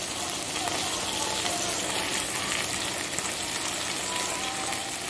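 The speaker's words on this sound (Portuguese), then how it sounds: "A carne tá fritando aqui, ó, gente." Meat seasoned only with salt fries in a pan on a home stove, filling the space with a constant, close, crackling sizzle and hiss that never lets up.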